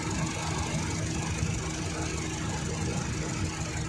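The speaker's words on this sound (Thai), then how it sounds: "เครื่องยนต์เดิมแท้จากโรงงานเดี๋ยวลองฟังเสียงกันเล็กน้อยนะครับ" A stock factory engine of a 2013 Honda Jazz 1.3 Hybrid idles close by, a low even rumble with a faint rhythmic knock and a thin high whine running throughout.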